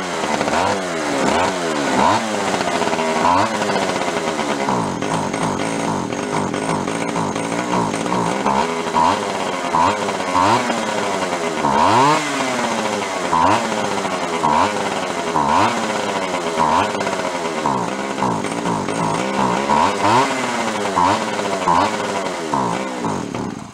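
An Echo CS 400 chainsaw with a fuel-flow carburetor fault runs loudly and continuously up close, its two-stroke engine surging and wavering in repeated revs, with voices talking over it at times.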